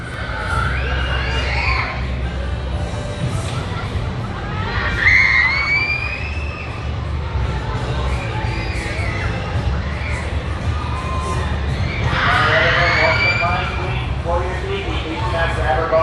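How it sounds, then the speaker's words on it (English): Distant crowds of amusement park riders at Waldameer scream in repeated high-pitched waves, rising and falling over a busy background rumble. "These are some very loud and potent screams back there."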